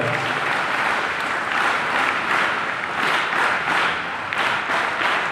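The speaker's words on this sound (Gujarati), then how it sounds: "જોરથી તમારા મા બાપ માટે તાળીઓ વગાડો" A school audience applauds loudly and steadily, dense clapping sustained throughout with slight swells in intensity.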